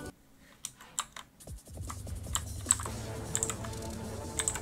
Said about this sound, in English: We really like loud clicks. And we're super happy with this keyboard.